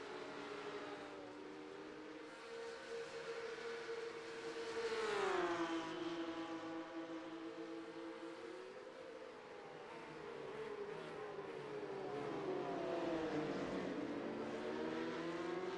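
Porsche Cup race car engines in a racing video game, several cars whining and revving through gear changes, pitch sweeping up and down as they pass, steady and moderately loud throughout.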